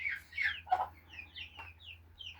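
Young chicks out in a yard for the first time give soft, scattered clucks and short chirps, several separate calls spread unevenly over a couple of seconds against a quiet low hum.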